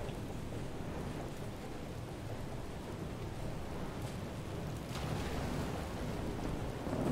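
Steady, dense rain and storm noise from a thunderstorm at sea in the game FAR: Changing Tides, a continuous loud wash with faint low rumbles and no voices.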